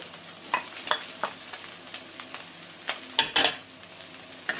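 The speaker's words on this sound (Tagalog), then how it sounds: "Haluin ulit natin ng konti dahil hot cook na yung carrot. I-mix po natin yung onion." Carrot and onion stirred in a frying pan for pansit, with a series of light scraping clacks of a utensil against the pan over a soft sizzle, growing louder near the end.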